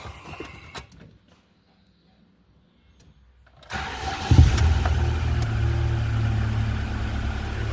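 The engine of a Chevrolet Niva, just back from a cylinder head overhaul and piston replacement, starts after a near-silent pause and then settles into a steady, fairly loud, slightly noisy idle close by.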